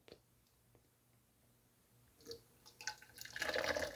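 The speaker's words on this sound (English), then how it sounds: "I just pour the hot water over my spoon until my cup fills up" Hot water is poured over a spoon holding grated ginger into a cup for tea, starting as faint drips and building into a louder, close splashing fill toward the end.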